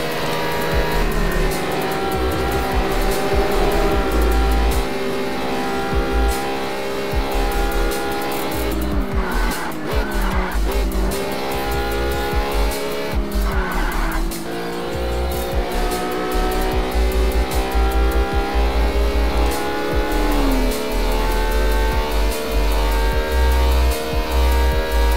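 Lamborghini Miura engine in Test Drive Unlimited, a loud steady drone with shifting pitch through gear changes and brief tire squeals, continuous and close for the whole stretch.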